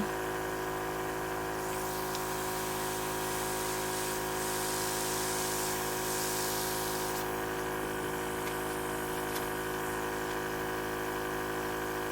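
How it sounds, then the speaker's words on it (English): A steady mechanical hum from an airbrush makeup compressor runs throughout, with a soft hissing spray of eyeshadow rising in the middle and then stopping. "So I'm just going to get a little close in and then spray."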